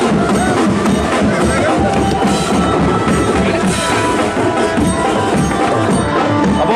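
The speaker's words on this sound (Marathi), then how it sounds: "प्रचंड अशी गर्दी जिथपर्यंत नजर जाते तिथपर्यंत फक्त फक्त गर्दीच पाहायला मिळते" Large crowd gathered to welcome a political figure at a rural rally in Wada–Kudus, a dense, continuous babble of many voices at steady loudness throughout, with scattered cheering rising from the throng.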